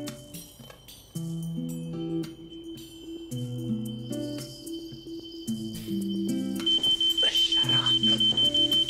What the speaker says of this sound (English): That's not my smoke alarm.